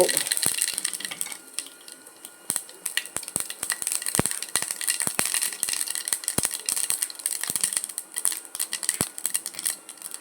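Mustard seeds splutter in hot oil while a Kerala-style green gram curry is being tempered, making sharp irregular pops and rattling crackles over a soft sizzle, close by and without talking.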